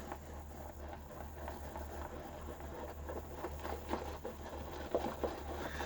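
A shaving brush whips soap lather around the inside of a bowl, giving a soft, wet, continuous patter and swishing that stays quiet and close, with no voices.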